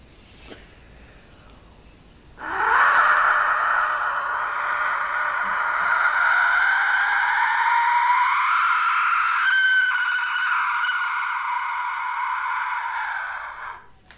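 A long, piercing shriek from a large Aztec-style skull death whistle rises abruptly after a brief raspy start, holds steady and harsh for about eleven seconds, then cuts off.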